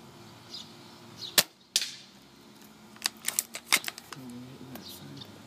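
Several sharp snapping shots from a Cyma M187D bolt-action airsoft sniper rifle fired outdoors at a sign, scattered singly and in a quick cluster near the end, with faint speech underneath.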